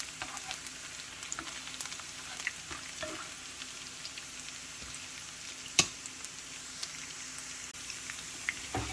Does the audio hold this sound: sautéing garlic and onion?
yes